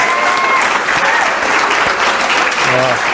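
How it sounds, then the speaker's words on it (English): Loud, close audience applause follows a talk at a gathering, a thick, continuous burst of many clapping hands with a few voices and faint tones mixed in. "Let's give James an awesome round of applause."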